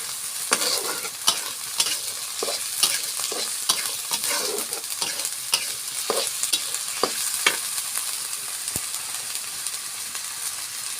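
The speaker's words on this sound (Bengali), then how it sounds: "কষাই নিব" Spice pastes of ginger, green chilli and cumin are stirred and fried in a pan for prawn biryani, with a loud continuous sizzle under repeated scraping strokes of the spoon and no talking.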